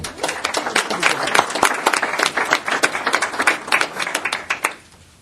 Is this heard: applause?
yes